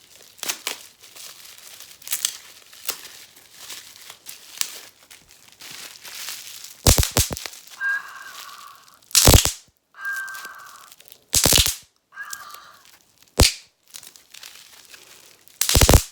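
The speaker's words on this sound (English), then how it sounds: "The next thing I am pulling out is something in bubble wrap." Bubble wrap crinkles and crackles as an item is unwrapped, in a series of close, sharp rustling bursts with quiet gaps between them.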